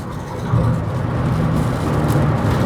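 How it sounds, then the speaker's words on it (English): A Suzuki Alto Works cruising at about 120 km/h in rain and wind gives a steady, loud cabin roar of engine hum mixed with wind noise, continuous and close, with no voices. "there's obviously a lot of wind noise in this car anyway, but the engine noise is definitely lower"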